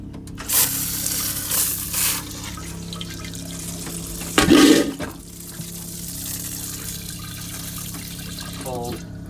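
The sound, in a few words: shower water running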